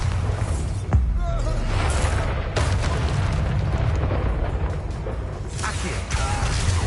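A Bombarda spell explosion from the Hogwarts Legacy video game booms with a dense, rumbling blast amid ongoing combat noise, sustained and loud, with a brief sharp burst near the start.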